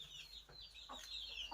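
Chickens clucking on a farm, a few soft clucks and calls spread over a moment, faint and somewhat distant, with no talk.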